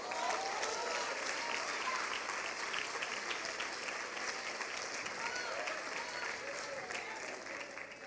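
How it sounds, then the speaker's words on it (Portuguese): Sustained applause fills a church as the congregation claps, a broad, even wash of hand claps with faint crowd murmur beneath, holding steady throughout. "Pode aplaudir a Jesus."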